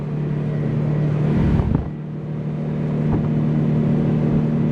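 A car pulls hard in second gear from about 40 mph on a highway, a loud steady engine drone with a brief dip near the shift before the note settles and climbs again, heard from inside the cabin with no talk.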